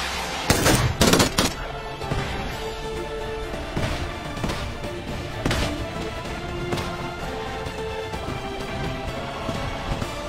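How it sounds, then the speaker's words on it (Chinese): Gunfire and thrown grenades in the mobile video game PUBG Mobile, with dense bursts of shots, a cluster of sharp loud blasts near the start, then sustained rattling fire through to the end. "定空方视角疯狂的投掷这个手雷。"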